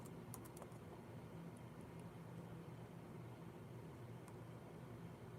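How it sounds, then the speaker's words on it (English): Faint typing on a computer keyboard, scattered light key clicks at a distance over a steady hiss of background noise. "Let's type that in."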